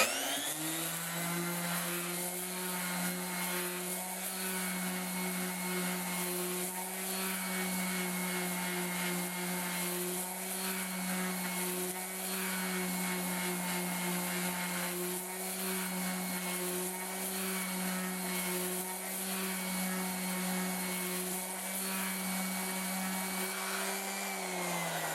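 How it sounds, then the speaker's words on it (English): Steady, continuous whine and hum of a power sander roughing wood with 80 grit sandpaper to remove burn marks and excess glue, loud and unbroken throughout with a faint rhythmic pulsing. "with this I have 80 grit sandpaper, and I'm just going to kind of rough it out"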